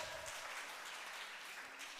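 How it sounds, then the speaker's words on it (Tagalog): A seminar audience at a marketing plan presentation gives a quiet round of applause, a soft, continuous patter of clapping with no talk over it. "Palakpak naman tayo dyan."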